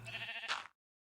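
A sheep in the Minecraft modpack Sky Factory 3 gives one short, close bleat with a wavering tone, cutting off abruptly into silence after about three-quarters of a second.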